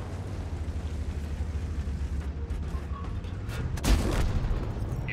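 A tank cannon fires in World of Tanks, a single heavy boom about four seconds in that rises above a constant low engine rumble and battle noise, with no talk.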